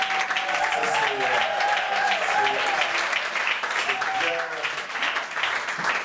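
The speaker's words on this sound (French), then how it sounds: "super applaudissements pour Stéphane" A church congregation applauds during a special Father's Day service, steady crowd clapping mixed with cheering voices and chatter, continuous and full throughout.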